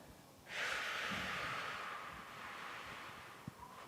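One long, soft breath out through the nose runs for about three seconds during qi gong twisting movements. It is faint and close, with low room hiss around it.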